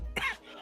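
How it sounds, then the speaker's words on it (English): A single short, sharp cough bursts out close to the microphone, lasting under half a second against a low background hum. "That's a fucking cough, bro."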